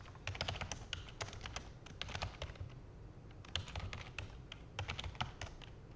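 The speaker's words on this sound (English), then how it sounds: "I'm going to type in this crazy thing" Rapid typing on a computer keyboard while entering Java code, with bursts of clustered key clicks separated by short pauses, close and clear over a low background hum, no voices.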